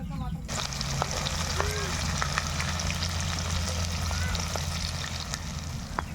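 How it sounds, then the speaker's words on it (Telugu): Chopped onions dropped into hot oil for fish biryani, setting off a loud, steady close sizzle that runs unbroken after a brief start, with faint voices in the background. "ముందుగా తరిగి పెట్టుకున్న ఎర్రగడ్డలని నూనెలో వేస్తున్నా"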